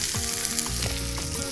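Eggplant, green and red capsicum and chorizo sausage fry in a paella pan with seafood paella underway, giving a dense, loud, continuous sizzle close up, with low thuds and scrapes as the pieces are stirred.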